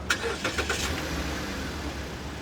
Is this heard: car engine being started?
yes